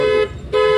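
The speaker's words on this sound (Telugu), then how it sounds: "రైట్గా ఉండు కొట్టు హార్న్." A car horn sounds twice in two short, loud honks close by, during a driving lesson in traffic at a four-road junction, with no speech over it.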